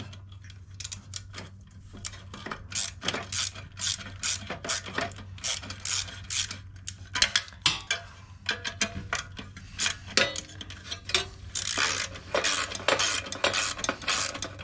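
A ratchet tool tightens the exhaust bolts on a Honda Helix scooter, clicking in a steady series of strokes with short pauses as the work shifts between bolts, close and clear, without any talking.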